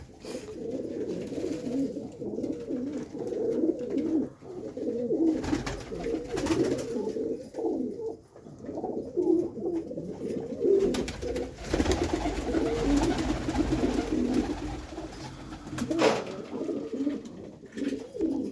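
Pigeons coo in a steady, overlapping murmur, a loft of newly released birds with golden eyes, red and white markings, close and continuous for the whole stretch.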